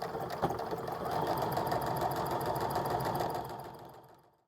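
A sewing machine stitches quilt block seams in a fast, even mechanical chatter that holds steady for a few seconds, then slows and stops, close and fairly quiet.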